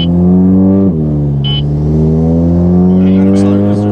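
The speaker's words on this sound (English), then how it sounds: "Like look, this is gonna be a normal acceleration." An Audi with a DSG transmission tune accelerates from inside the cabin, a loud steady engine drone rising in pitch through a brief gear change, continuous and close throughout.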